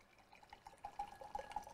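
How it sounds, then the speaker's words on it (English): Hot water pours from a Drew&Cole RediKettle in a soft, faint trickle that builds to steadier splashing and dripping toward the end; quiet and close, with no speech. "I'm going to do a pouring test."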